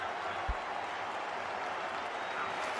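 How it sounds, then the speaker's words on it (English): A stadium crowd of India and England fans at a T20 World Cup semi-final cricket match cheers and applauds in a steady, dense roar, with commentary faintly underneath. "India fans cheering because Bumrah has been brilliant."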